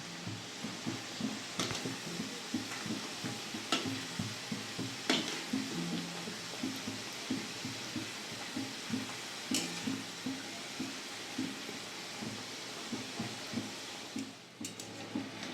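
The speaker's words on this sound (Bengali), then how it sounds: "উল্টে পাল্টে ভালো করে ভেজে নেব।" Nimki snacks fry in hot oil in a kadai while being turned, giving a steady close crackling sizzle with soft repeated clicks of stirring throughout, no talking.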